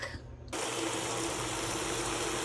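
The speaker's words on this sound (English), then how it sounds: "I've just got a bucket with dish soap and really hot water" Really hot water gushing steadily into a bucket with dish soap, a broad continuous rush that starts abruptly after a short quiet moment and holds constant to the end.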